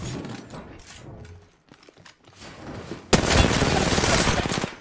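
Gunfire in Apex Legends as squads fight near a closing ring: muffled shots and mechanical clatter, then a sudden loud, sustained barrage of close fire for the final seconds.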